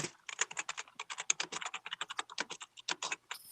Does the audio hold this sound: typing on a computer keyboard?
yes